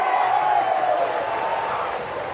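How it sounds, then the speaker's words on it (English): Spectators roaring at an under-19 men's rugby match between Chinese Taipei and Japan, a loud, continuous crowd roar that fills the whole stretch, with commentary running over it. "The crowd roaring."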